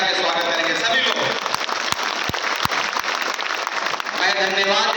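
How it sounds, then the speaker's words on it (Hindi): Sustained audience applause in a Patna memorial hall at a constitution-saving social justice conference, a dense steady clapping that fills the room throughout without a break. "लेकिन उससे पहले हम ताली बजा के स्वागत करेंगे सभी लोग"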